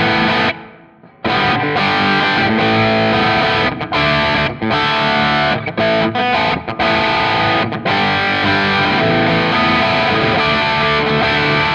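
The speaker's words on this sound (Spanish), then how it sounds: "Si lo pongo a 15, ya lo vas a escuchar como mucho más presente el reverb." Electric guitar with heavy distortion played through a Fractal Audio Axe FX with its reverb mix raised, a loud sustained chordal passage with brief breaks and a long, present reverb tail.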